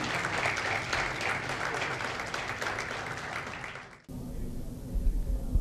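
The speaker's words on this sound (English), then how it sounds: "A big round of a standing applause to him." A standing ovation at a medical event, dense hall applause for about four seconds before it cuts off abruptly, leaving a low room hum.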